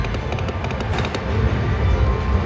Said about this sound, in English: In a minute, them firecrackers are going to explode.